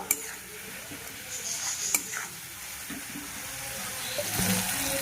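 Spiced masala for egg tadka, loosened with a little water, sizzles and hisses in a pan while a spoon stirs and scrapes, with occasional clinks against the metal.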